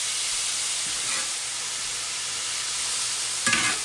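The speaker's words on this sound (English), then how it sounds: "I'm going to put in my kraut. And I'm just going to stir it around." Drained sauerkraut sizzles steadily in a hot pan, a close, continuous frying hiss with occasional soft scraping stirs and a brief louder clatter near the end.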